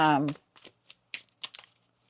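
Tarot cards shuffled in short soft riffling bursts, several quick flicks with pauses between, close and fairly quiet, following a brief spoken voice at the start.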